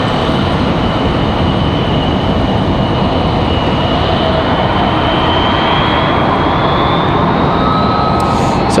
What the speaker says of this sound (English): we just had a C-130 departure